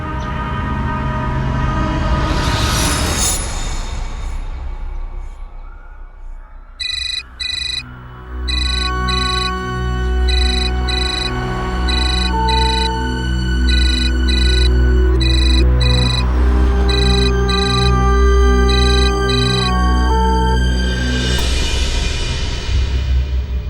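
An unanswered phone rings with a repeating electronic ringtone pattern of bright bursts over a low rumble, loud and close, going on for a long stretch with whooshing swells at the start and end and no speech.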